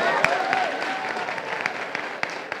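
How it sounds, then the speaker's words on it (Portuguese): An audience at a youth gathering with the hip hop movement in Heliópolis, São Paulo, applauds in a brief burst, with sharper individual claps standing out near the mic and a faint whistle-like tone over the crowd. "Palmas, palmas, palmas."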